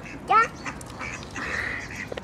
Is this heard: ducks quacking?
yes